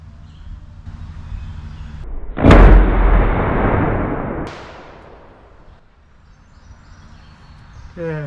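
A single loud, close gunshot from a custom .308 Tikka TX3 rifle at an outdoor range cracks sharply and decays into a long rumbling echo, with a bit of faint handling noise around it.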